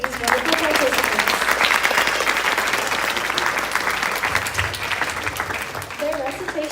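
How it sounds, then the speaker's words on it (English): Sustained audience applause at a youth volunteer program's annual day event, dense steady clapping filling the whole stretch with no pauses, close and fairly loud, with faint voices mixed in underneath. "Can we have another huge round of applause for these wonderful participants?"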